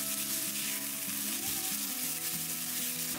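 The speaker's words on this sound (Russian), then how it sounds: "И лук буду обжаривать." Steady, dense sizzling of onions frying in a hot pan, loud and close, with faint stirring scrapes and no voices.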